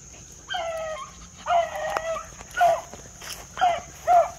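A rabbit-hunting dog whines and yelps in a series of high, drawn-out cries, fairly close, with short pauses between them.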